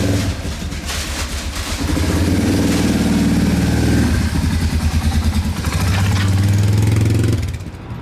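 A BW motorcycle engine fitted with a Chinese carburetor runs steadily up close, with a strong low rumble that swells as the throttle is blipped and then settles back toward idle.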